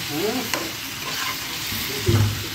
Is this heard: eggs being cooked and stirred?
yes